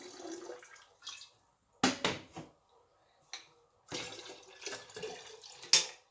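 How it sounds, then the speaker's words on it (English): Distilled water runs into a kettle in several short bursts separated by silences, splashing close and fairly loud with a few drips in between. "I have this kettle here and I'm filling it with some of my distilled water."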